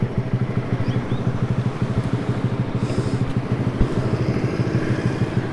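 A 2020 Honda Grom motorcycle engine chugs with a fast, pulsing low thump while riding, close and fairly loud, with a slight change in rhythm midway as gears shift.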